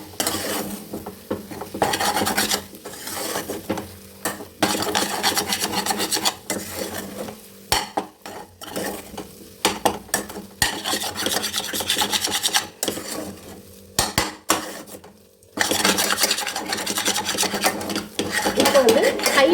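Egg and broken idly mixed in a pan for egg kothu idly, repeated loud rasping scrapes of a spatula across the pan in irregular bursts with brief pauses, close up.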